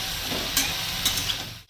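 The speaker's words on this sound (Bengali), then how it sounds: "পাঁচফোড়ন দেবো, পেঁয়াজ কাটাগুলো দেবো, সাথে ভাজা হয়ে যাবে।" Chopped onions and panch phoron sizzling in hot oil, a steady close-up frying hiss with scraping stirs and small bursts of crackle, no voices.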